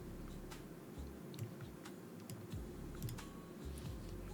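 Steady clacking of keys on a mechanical computer keyboard with creamy-sounding keycaps, a continuous run of soft, close keystrokes with occasional sharper clicks, no voices.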